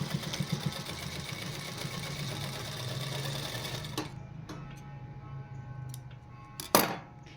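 A sewing machine runs steadily, stitching a pant belt piece about half an inch, with a fast, even mechanical whirr that stops abruptly partway through, followed by a few clicks and a short burst near the end.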